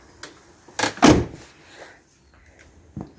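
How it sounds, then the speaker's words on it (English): A muscle car door opening: a loud metallic clunk and latch release up close, followed by a quieter creak and a small click at the end. "the doors open this way"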